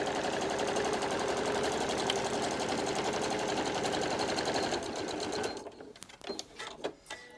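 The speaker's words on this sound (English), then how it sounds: "So a back stitch at the end as well, which keeps it nice and safe." A sewing machine stitches steadily through a fabric scrunchie for several seconds, running fast and close, then stops and gives way to a few handling clicks and rustles.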